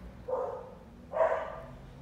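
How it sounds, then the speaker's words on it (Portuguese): Two barks from dogs that have woken up, heard a short way off in a quiet room where spatula painting of violets is under way, each bark followed by a brief fade. "Os cachorros acordaram de novo."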